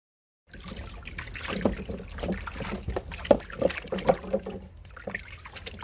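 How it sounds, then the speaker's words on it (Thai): Sugarcane stalk, eight months old, being washed with water before going into a juice press: splashing, trickling and sloshing water with irregular rubbing and handling noises, close by, lasting throughout. "เราต้องล้างก่อนเพื่อที่จะไปเข้าเครื่องรีด"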